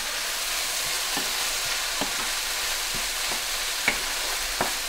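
Onions fry and caramelize in a pan for a Macedonian fish-and-onion dish, a continuous close sizzle with periodic soft stirring scrapes and taps, no voices.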